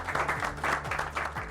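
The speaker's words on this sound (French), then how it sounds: "Bravo, vraiment, je vous applaudis." Applause from a small group at a high school workshop, clapping in slightly uneven bursts, fairly close.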